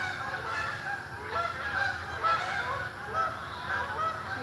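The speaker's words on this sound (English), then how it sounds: "We have the geese are visiting this morning for our yoga class." Geese honk repeatedly in a loose, overlapping chorus outdoors during a morning yoga class, moderately distant and steady over a low background hum.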